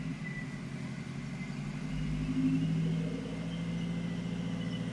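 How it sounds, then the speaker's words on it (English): A 2014 Subaru STI engine on a Link G4X flex-fuel tune idles with a steady low rumble, then its revs climb slowly and hold, heard close with no talking. "Bring your RPM up slowly."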